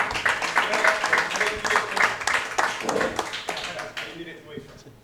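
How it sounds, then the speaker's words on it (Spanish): Lively hand-clapping applause from a studio audience on a talk show, several seconds of dense clapping that thins out and fades near the end. "Un fuerte aplauso al Tini"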